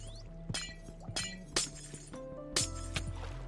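Glass shattering in a Minecraft death trap, several sharp crashes at irregular intervals over a low game music drone, each with a bright tinkling tail.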